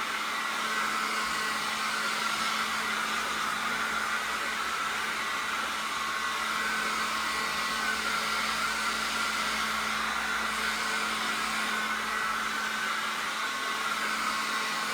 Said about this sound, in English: So I'm going to get the old trusty hair dryer.